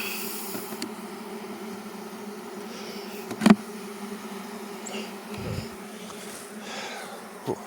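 A swarm of honey bees hums steadily around a hive box as frames are lowered into it, a close, continuous drone with a few sharp knocks and bumps from handling the equipment.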